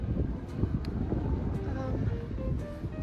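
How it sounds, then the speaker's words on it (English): Strong gusts buffet a microphone on an outdoor city street in Dongdaemun-gu, Seoul, a steady low rumble filling the whole few seconds with no talk over it. "Oh, it's so windy today."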